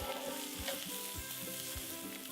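Steak and onions topped with mozzarella and provolone sizzle steadily on a hot griddle, a close, even hiss with a few soft low knocks and no voices.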